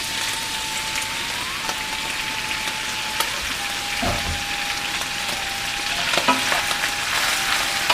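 Prawns frying in a pan over medium-high flame, a steady close crackling sizzle with occasional stirring clinks and a faint background tone, no talking.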